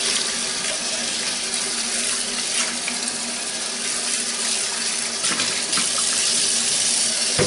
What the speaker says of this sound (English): Rinse the bowl.